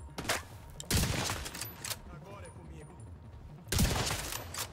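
Bursts of gunfire in the video game The Division 2, two loud broadband volleys about three seconds apart with quieter game ambience and a softer burst between, no talk over it.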